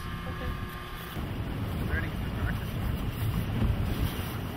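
A boat motors out of Tofino Harbour on open water, its steady engine rumble and hull noise mixed with strong wind buffeting the microphone and a faint voice under the din.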